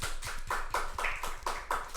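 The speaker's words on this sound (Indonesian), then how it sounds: "Wih, beri tepuk tangannya dong." A school Islamic student club audience claps for its mentor in a short, steady burst of applause. Dense, rhythmic hand claps fill the whole moment at moderate loudness, with no speech over them.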